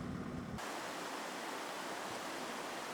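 A mountain valley stream in Woraksan National Park rushes over rocks in a steady, even hiss of flowing water. It stays constant and moderately distant, with no voices.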